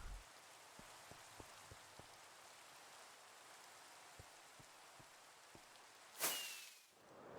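Rain falls steadily on a video game server, a soft hiss broken by a few faint single drips, then a sudden brief swell of louder rushing noise near the end that quickly fades.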